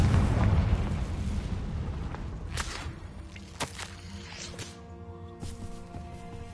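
A Confringo spell exploding in Hogwarts Legacy, one booming fiery blast followed by several sharp crackling bursts fading over a low rumble.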